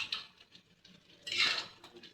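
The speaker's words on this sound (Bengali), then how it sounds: "আর ওদিকে ভাজাটা আমি নাড়াচাড়া করে নেব" A utensil stirs chicken curry frying in a pan, giving soft scraping and clinking strokes with a louder burst of sizzle and scrape near the middle, close and fairly quiet.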